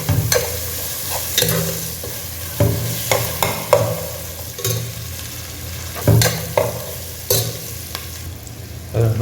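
Green chillies and onions fry in oil for mutton dum biryani, a loud close sizzle broken by repeated sharp spoon clanks and stirring scrapes against the pot, with no talking.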